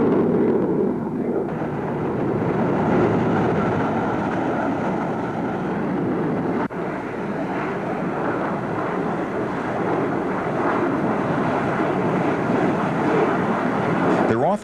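Carrier squadron aircraft from USS Carl Vinson launch and streak overhead, a loud, continuous broadband jet roar with a sharp crack near the middle and a steady rumble underneath.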